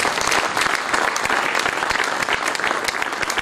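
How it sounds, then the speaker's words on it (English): Loud applause from a school audience welcoming a guest speaker, dense rapid clapping from many hands sustained throughout, close and full. "may I please request you for a loud round of applause and welcome"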